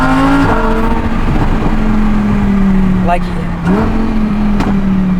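A Lamborghini Huracan Performante's engine holds a loud, steady tone close by, with a sharp rise near the start and a quick blip later on, while someone talks over it briefly.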